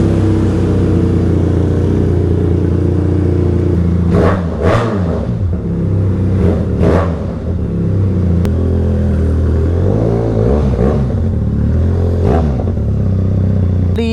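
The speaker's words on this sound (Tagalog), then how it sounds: "Paandarin muna natin ang ating motor." A Benelli TRK motorcycle engine runs close by at a steady idle, then gets several sharp throttle blips that rise and fall, with a clattering mechanical rumble between the revs and no talk.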